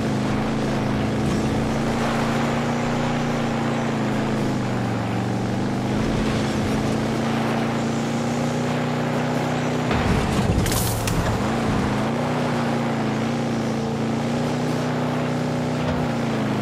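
A vehicle engine in Far Cry 6 drones steadily and loudly throughout while driving, with a brief rushing whoosh near the middle and no talking.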